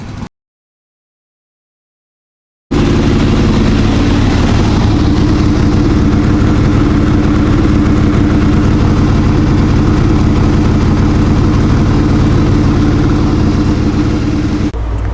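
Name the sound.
Harley Ironhead Sportster engine running at high idle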